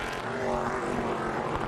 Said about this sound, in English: I love the sound when the rear wheels get off the ground and the engine revs up